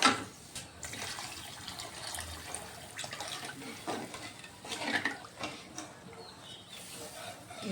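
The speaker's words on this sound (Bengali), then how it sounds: "আর একটু জল দিতে লাগবে।" Water poured into a cooking pot during a Bengali prawn and jackfruit curry, a soft splashing pour with a few clinks, moderately close, in a quiet kitchen.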